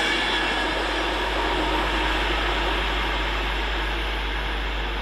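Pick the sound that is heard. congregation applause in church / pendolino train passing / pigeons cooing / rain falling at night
pendolino train passing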